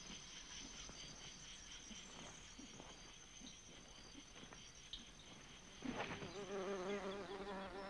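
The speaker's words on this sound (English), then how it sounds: "Buzz pollination, the release of pollen by ultrasonic vibrations." A bee buzzes steadily at a flower, vibrating to shake loose its pollen, a close insect drone with a louder, brighter burst of buzzing toward the end.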